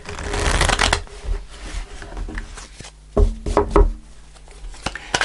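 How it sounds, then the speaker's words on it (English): A deck of tarot cards is shuffled by hand close up, with several quick papery bursts and soft taps as the cards are riffled and squared. "Okay, so as usual I pull 5 cards."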